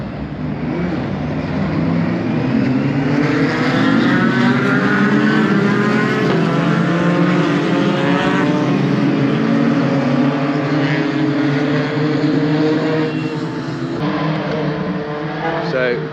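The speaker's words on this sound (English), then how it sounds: "All the pickup trucks are now queuing up the 3rd race. We're going to do a green flag lap and it's going to be a rolling start again." Pickup trucks roar off together on a rolling-start green flag lap at Pembrey Circuit in Wales. A loud, sustained mass of engine noise rises and holds, with a voice talking over it.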